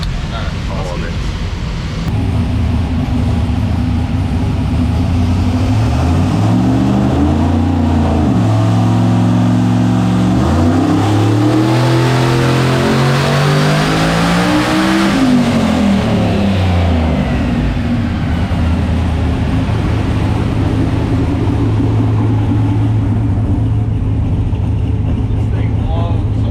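A boosted Nissan engine revs hard and loud through rising and falling sweeps, building to a peak around the middle before settling back to a steady idle, with voices audible throughout.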